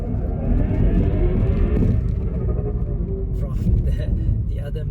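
A car in go-kart drive mode plays a synthetic engine sound, a loud, steady rumbling drone with shifting harmonic tones that runs continuously while someone talks over it.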